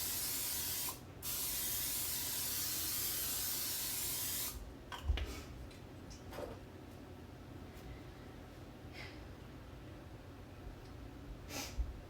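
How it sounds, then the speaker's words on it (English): Cooking oil sprayed from a can during Thanksgiving cooking prep, a steady hiss lasting about four seconds after a brief first burst, then quiet kitchen handling noises and small clicks. "spray with oil"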